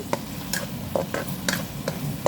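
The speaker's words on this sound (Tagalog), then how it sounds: "Tapos haluin na natin" A spatula stirs an eggplant stir-fry with dark soy sauce and sugar in a pan, giving soft, evenly spaced scraping strokes over a faint background sizzle, with no talking.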